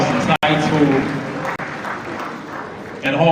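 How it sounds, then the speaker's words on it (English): An audience in a conference hall claps for a speaker, a continuous moderate patter with a voice talking over it and two brief dropouts in the sound. "A big round of applause for him."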